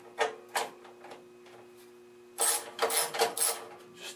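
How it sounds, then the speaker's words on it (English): Screws being removed from the chassis of a Predicta Siesta television, a few sharp ratcheting clicks and squeaks from a screwdriver, then a quicker cluster of metallic turns, close and quiet against a faint hum. "So now I can start taking off screws that hold the chassis on."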